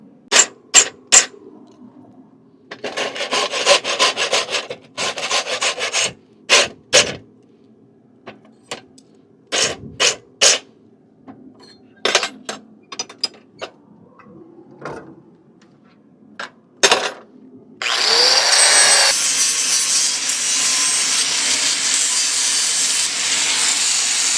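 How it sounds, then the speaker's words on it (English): A rasp scrapes across hot forged horseshoe clips in repeated sharp, rough strokes separated by pauses, followed by a steady, louder whirring grind near the end. "We're going to hot rasp these clips into a final shape"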